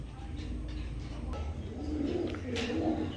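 Grizzle pigeons coo softly amid steady background noise, with a person talking faintly nearby.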